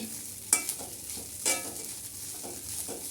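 Fish frying in a pan, a low steady sizzle broken by a few sharp scrapes and clinks of a utensil turning it.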